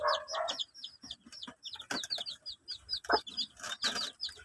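Chicks and hens clucking and peeping as the chicks drop down, a busy run of short chirps and clucks close by, with some wing flutter and occasional low voices nearby.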